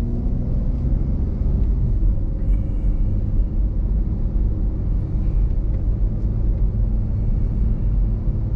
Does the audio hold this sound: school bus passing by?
yes